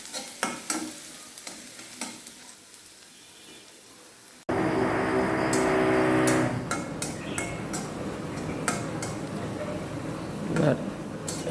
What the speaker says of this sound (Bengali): ড্রিল মেশিনের শব্দে কিছু শোনাও যায় না